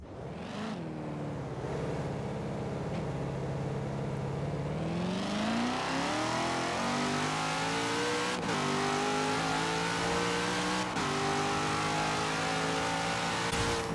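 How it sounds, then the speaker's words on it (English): A Hennessy Venom in a racing video game accelerates hard, its engine note climbing through several gear changes, loud and close with no talk over it. "Okay, Hennessy Venom. So let's see how fast this thing does."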